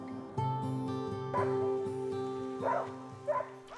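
Sled dogs kept by a family in the Kamchatka wilderness bark and yip in short bursts, several rising over a steady tonal drone that runs through the whole stretch.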